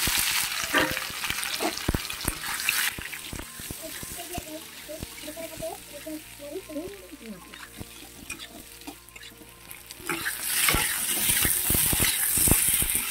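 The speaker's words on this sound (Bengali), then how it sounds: "তো আলুগুলো বন্ধুরা ভালো করে কষে নেব।" Boiled potatoes stir-fried in a hot spiced pan with ginger, a continuous sizzle with scraping stirs that grows louder and busier near the end, close by with a voice faintly underneath.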